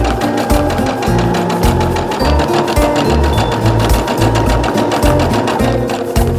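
A sewing machine stitches patchwork at a regular length, a fast, even mechanical whir with a steady chatter from the needle that runs on close and loud without pause.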